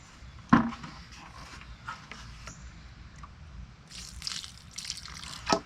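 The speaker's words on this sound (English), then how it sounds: "So I'm probably gonna add a little more water right now." Water poured and dripping into a bucket of dry thinset powder during mixing, a few soft trickles and splashes with a sharper splash near the start and end, close and fairly quiet.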